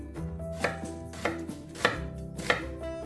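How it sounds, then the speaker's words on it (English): A knife slices through an onion on a cutting board, producing four evenly spaced crisp chops close up with no talking. "let's slice an onion"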